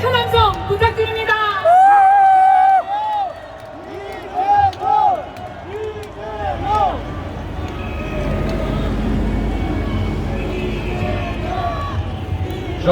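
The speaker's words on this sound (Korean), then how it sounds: "다시 한번 큰 함성 부탁드립니다." A crowd at a Democratic Party rally in Korea cheers with a rising, sustained roar of voices after an announcer speaks loudly over a PA, the crowd noise swelling through the second half.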